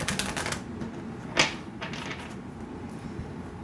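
Tarot cards being shuffled at close range, a rapid riffle of papery flicks followed by a sharper snap of the deck, with a steady background hum and no talking.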